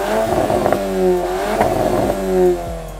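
A 2024 Cupra Formentor VZ 2.0 TSI 333 with an Akrapovič exhaust system revs loudly up close, its pitch rising and falling in a few repeated blips over a continuous engine drone.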